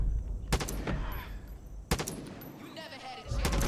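Gunfire in the video game Far Cry 5: a sharp loud shot, a second burst a bit over a second later, then another crack near the end, with ringing tails and game ambience between.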